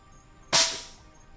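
A single sharp shot from an air rifle fitted with a thermal scope, fired at Gambian rats: one crisp, close crack with a brief tail, in an otherwise quiet setting.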